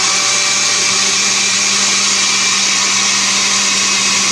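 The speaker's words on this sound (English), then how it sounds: "now that I have this in the blender, I'm going to go ahead and I'm going to put it on low. I'm going to put it on liquefy" Kitchen blender on its liquefy setting mixing bacon fat into soap, a loud, steady whirring roar that holds constant throughout with no pauses or voices.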